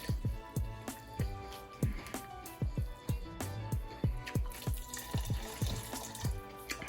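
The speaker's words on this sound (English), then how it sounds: "We got our better than bouillon and hot water mixture. Add it slow." A bouillon and hot water mixture is poured slowly into a pot of seafood, sausage and chicken gumbo, giving a fluttering, uneven splash and trickle that surges and dips.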